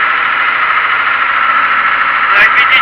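An Ursus tractor engine strains steadily while ploughing a clay field for wheat, a loud, continuous droning hum with a brief squeal near the end and no speech over it.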